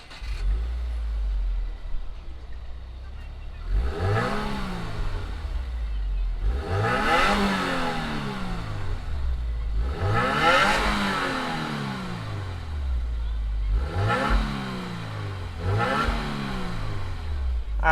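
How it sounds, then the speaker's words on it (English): A 2020 Subaru WRX Performance Package engine fires up nearby and then revs hard several times, each loud surge climbing and falling back between bursts. "why don't we go ahead, fire up this WRX, and see what it sounds like"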